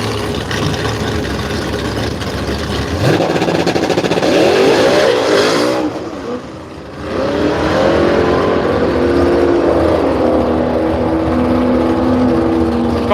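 Copo Camaro and Ford radial drag cars launching at Willowbank, Australia: a loud, sustained engine roar with rising revs, a brief dip around the middle, then the engines surge again, heard alone without talk.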